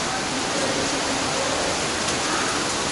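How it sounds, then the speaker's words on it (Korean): Tukad Cepung waterfall in Ubud, Bali, gives a steady, loud broadband roar of falling water that holds level throughout with no break or talk. "투카드 세펑 폭포 좋다"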